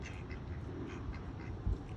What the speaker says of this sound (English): Look, here are some more ducks. They are different colored.